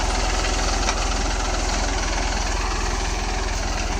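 A tractor engine runs at idle as peanut harvesting begins, a loud, close, rapid regular thumping pulse with steady rumble throughout.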